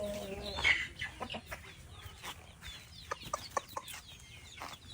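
Chickens cluck in short, irregular bursts, some near and some farther off, with a few sharper calls mixed in over a quiet farmyard background; no one speaks.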